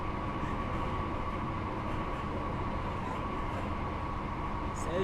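A steady, loud train rumble with a constant droning hum, continuous throughout without pauses, as the train runs through a cutting in Train Sim World 5.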